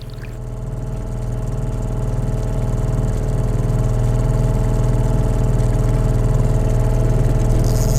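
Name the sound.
outboard boat motor running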